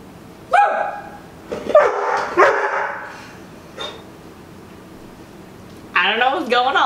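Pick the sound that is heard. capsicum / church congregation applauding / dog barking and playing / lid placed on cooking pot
dog barking and playing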